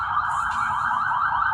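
An ambulance siren wails continuously at a steady pitch, loud and fairly close, over low traffic rumble on a street during a night out for pares food.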